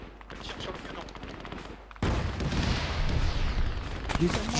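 ArmA 3 World War II gunfire rattles in quick bursts, quieter at first and then suddenly louder and denser, with booming shots mixed in.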